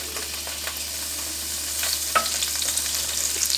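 Butter melting in a pan for chicken marsala, a steady close sizzle and crackle with occasional scraping of a utensil across the pan, no voices.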